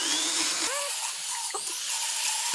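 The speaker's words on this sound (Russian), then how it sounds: "Подпиливаем острый край." A powered dental tool files down a sharp edge on a horse's tooth, giving a high, steady whirring grind that briefly cuts out and restarts, close and fairly loud.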